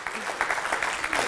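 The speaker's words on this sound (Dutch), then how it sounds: "Mag ik een heel hartelijk applaus voor Jessica." Brief burst of audience clapping welcoming the speaker Jessica onto the stage at a nature talk, a quick patter of hands rising and falling over barely a second.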